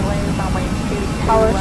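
Airliner engines spooling up to Flex takeoff thrust for departure from Kyiv, a steady broad roar heard from inside the cabin with cockpit callouts talking over it.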